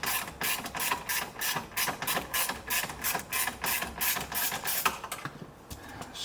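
A Torx 20 screw is being backed out of a MINI Cooper R50/R53 dashboard with a ratcheting tool, a rapid run of regular mechanical clicks close up, steady and rhythmic before tapering off near the end.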